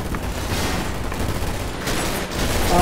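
Steady rattle of video game gunfire in a shooter match, a continuous, moderately loud volley with a few sharper spikes and a louder swell near the end.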